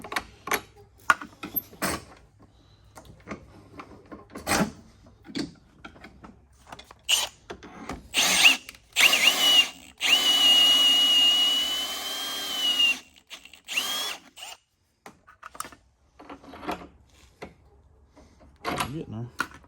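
A 5/8 reamer drills out a control arm bushing on a Chevy Silverado in short bursts, with a longer whining run in the middle, clicks and shop handling noises between, close by.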